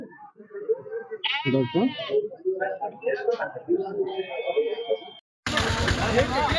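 Male goats bleat at the Kadiri weekly Tuesday livestock market, one drawn-out nasal bleat standing out close by amid a busy crowd, with people talking throughout and a brief louder burst of noise at the end.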